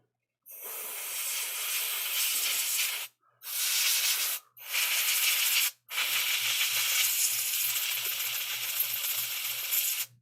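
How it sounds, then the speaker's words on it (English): Aerosol contact cleaner and compressed air sprayed onto a Nintendo Joy-Con during a right bumper repair, heard as loud, steady hissing bursts, three short sprays followed by a longer continuous blast, close to the mic with no talking. "got some contact cleaner and then some compressed air"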